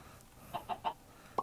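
Video game chickens give a few short, soft clucks in a quick cluster, then one more after a pause, faint against a quiet background.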